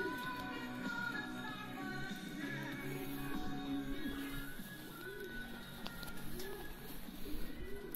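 Racing pigeons coo softly in a loft, a young bird team with cock birds, their low rolling calls repeating close by against a quiet room tone.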